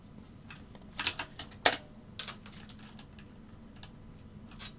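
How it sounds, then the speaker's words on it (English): Typing on a computer keyboard during live futures trading, quiet clusters of clicky keystrokes in short bursts, with a couple of louder key hits near the start and sparse taps trailing off. "I'm like busy typing."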